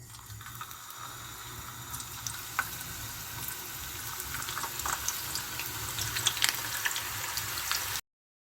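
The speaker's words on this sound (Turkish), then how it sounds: "İçlerine oymuş olduğumuz kabaklarımızı bol kızgın yağda kızartıyoruz." Hollowed-out zucchini frying in plenty of hot oil in a home kitchen, giving a steady, moderately loud sizzle and crackle with small pops throughout and no talking.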